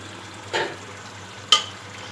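Water poured into fried garam masala in a pot while making biryani gives two short bursts of hissing sizzle about a second apart over a quiet simmer.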